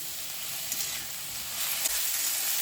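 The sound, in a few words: bathua greens chorchori frying in a pan on a gas flame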